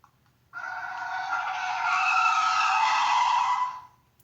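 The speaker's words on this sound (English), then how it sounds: "Screech! 2 cars swerved to avoid him." A single long tire screech, loud and high-pitched, holding steady for about three seconds before cutting off, with no voices.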